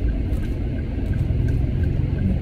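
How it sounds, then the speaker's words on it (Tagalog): A truck passes on a road near a school pickup, a low engine rumble that stays loud and steady throughout with a faint periodic ticking above it. "Truck pala."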